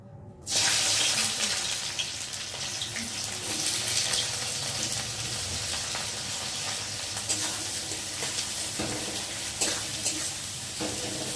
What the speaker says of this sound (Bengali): এখন এই দেখো কেটে রাখা পেঁয়াজগুলোকে দিয়ে ভালো করে ভেজে নেব